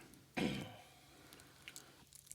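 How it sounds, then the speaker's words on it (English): A single short throat clearing, close and fairly loud, followed by quiet room tone with faint small clicks. "Don't clear your throat right before speaking, because it's hard to edit out."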